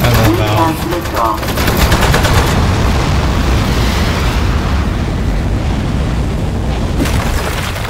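Sustained rapid gunfire blasts in Aperture Desk Job, loud and dense with booming impacts, a voice speaking over the opening moments before the shooting roars on alone.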